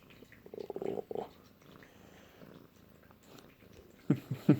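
A domestic cat purring close to the microphone in soft rhythmic bursts, with a few louder, nearer rumbling pulses toward the end and quiet room noise between.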